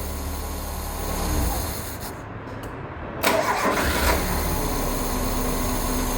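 A Tofaş Şahin car engine runs loudly up close, then the revs surge as the throttle is pressed, settling into a steady rough drone afterward.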